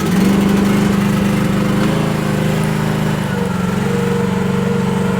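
A diesel engine on a Chinese mini excavator runs loud and close, a steady throbbing drone with a strong low hum that holds evenly throughout with no speech over it.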